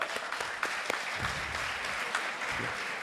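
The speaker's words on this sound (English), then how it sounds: "Just give her a clap." Audience applause for an alumna at an alumni entrepreneurship event: several seconds of steady, moderately quiet clapping from a small crowd, with a few sharper individual claps standing out.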